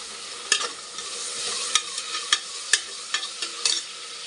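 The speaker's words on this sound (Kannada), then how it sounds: "ಪುದೀನ ಒಂದು ಸ್ವಲ್ಪ ಫ್ರೈ ಆಗಿದೆ" Mint leaves fry in a pan for Hanumanth biryani, giving a steady soft sizzle, with a spoon scraping and stirring in sharp, irregular clicks. The sound is close and there is no talk.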